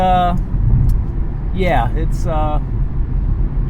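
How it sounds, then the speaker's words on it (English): Steady low rumble of road noise inside a moving 2022 Hyundai Accent with no sound deadening, with a person speaking briefly over it. "A lot of road noise"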